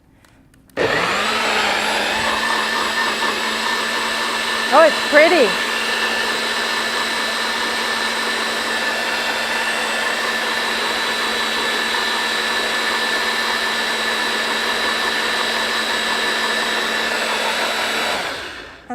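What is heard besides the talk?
blender making a green smoothie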